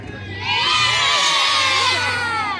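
A large crowd of children shouts together in a loud, sustained roar of one word at a lively outdoor event in Warsaw.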